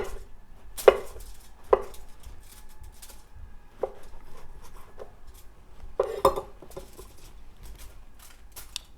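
A knife slicing mushroom caps on a cutting board for a vegan papillote dinner, giving a few sharp, separate chopping taps spaced irregularly against quiet kitchen background.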